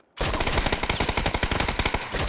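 Sustained suppressive automatic gunfire in a competitive shooter video game, a loud, dense burst of rapid shots that runs almost unbroken for about two seconds before it cuts off.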